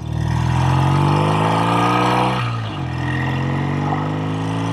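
A 1969 BSA Thunderbolt 650 motorcycle engine with a single carburetor revs up loudly with rising pitch, drops briefly as it shifts gear, then pulls away again, close and continuous.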